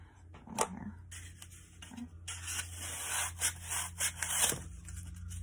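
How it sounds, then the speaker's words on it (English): Floral foam is sliced by hand, giving a series of soft, scratchy rubbing and sawing strokes with brief pauses, close up against a low steady background hum. "So I'm gonna take some floral foam and I'm just gonna cut it."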